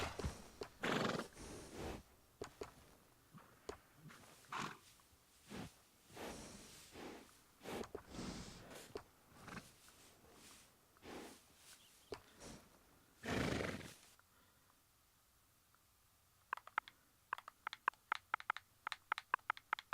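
Horses in the video game Red Dead Redemption 2 neigh and whinny repeatedly with loud snorts and breathy calls, then a quick run of hoofbeats clip-clops near the end, with no talk.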